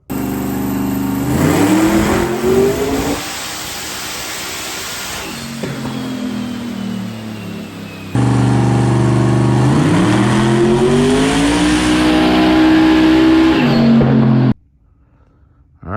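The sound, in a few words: twin turbo 388 LSX car engine revving on dyno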